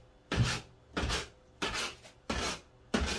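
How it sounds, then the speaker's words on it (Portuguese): A knife cuts through a multipurpose dough in five evenly spaced, close strokes about a finger and a half apart, each a short scraping slice that falls quiet before the next. "Aqui a gente vem cortando"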